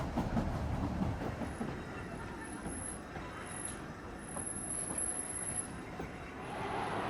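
A small 3-foot narrow gauge train on the Isle of Man rumbles steadily along the rails, with a faint high wheel squeal and soft clattering throughout, heard from on board.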